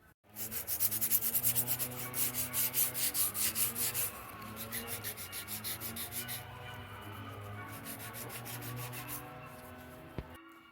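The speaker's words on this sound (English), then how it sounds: "Another little bit of sanding there, and let's get started." Steady rhythmic rasping of sandpaper rubbing back and forth on wooden spindle chairs, close and fairly loud, with strokes slowing and softening partway through.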